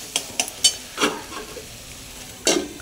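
Chopped tomato goes into a pan of sizzling, fried-down masala for a chicken curry, giving a few short scraping stirs and soft sizzling bursts close up, with quiet gaps between them.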